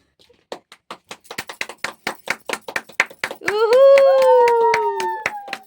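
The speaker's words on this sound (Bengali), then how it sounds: "হাততালি মারো" Family members clap their hands in an even, quick rhythm at a child's cake cutting. A clear burst of claps runs for a few seconds, then a child's drawn-out vocal or singing tone takes over, with little clapping left beneath it.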